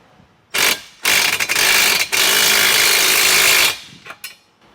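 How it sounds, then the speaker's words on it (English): Bolts on a heavy-duty Jeep Wrangler spare tire mount are tightened with a power tool while a box wrench holds the nut, giving several loud, close bursts of rattling, ratcheting mechanical noise separated by short pauses. "So you're going to use your box wrench just to stabilize the nut while you fasten down the top."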